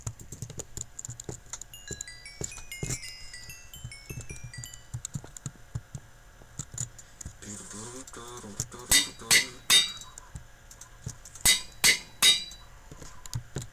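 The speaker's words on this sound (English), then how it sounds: "This anvil is about to break." An anvil is used in the Minecraft video game, giving a run of sharp metallic clanks, several spaced strikes in two quick clusters over faint background game sounds and chimes.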